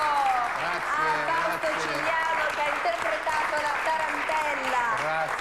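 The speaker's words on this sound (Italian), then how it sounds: "Un applauso" A crowd applauds after a performance of a Christmas tarantella, a steady clatter of many hands while a voice carries over the top of it.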